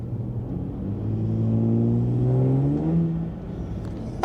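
A Ram RHO truck engine is heard close at its intake, swelling into a rising rev that builds and holds, then eases back down, with a deep mechanical drone and whir and no talking.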